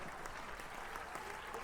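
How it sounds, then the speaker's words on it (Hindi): Audience applause at a comedy show, a faint, even patter of many hands clapping throughout, distant and without any voices over it. "तालियां"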